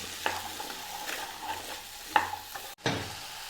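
Three slit green chillies sautéing in a pan for a Kerala-style stew, with a soft, faint sizzle and a few sharp spoon clinks and stirring scrapes spaced through it.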